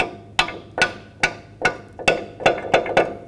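Sharp, close metallic taps seat a clip on the rear brake hose of a 2000-2006 Chevy Tahoe, about nine taps that come faster toward the end.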